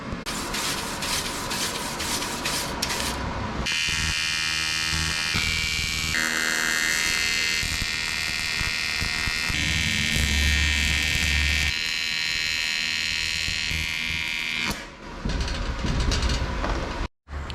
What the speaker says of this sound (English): I've now tried pulling a couple of beads